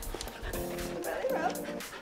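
A small puppy whimpers and lets out high yips, close by, over a murmur of background voices.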